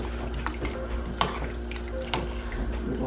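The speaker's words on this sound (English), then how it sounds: "Stir it up." Seasoned food, colored with paprika, being stirred in a pot for fried pork chops with string beans and potatoes: steady soft scraping and light clinks of a utensil against the pot over a constant low kitchen hum, with no talk.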